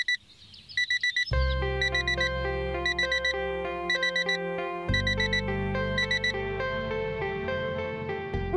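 An alarm clock rings loudly in the morning, repeating rapid electronic beeps in steady bursts over a sustained musical tone, with no voices.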